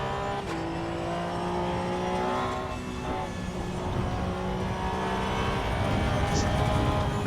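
Car driven in the sim racing game Assetto Corsa EVO, engine tone rising and falling through gear changes with a sustained whine, steady and moderately loud throughout.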